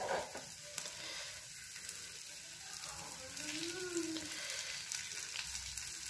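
A dosa cooking on a hot pan gives a continuous soft sizzle and crackle, steady and close, with faint background noise and no talk.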